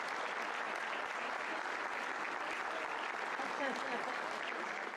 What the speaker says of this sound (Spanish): ¿cuánto le damos un aplauso al sonidista?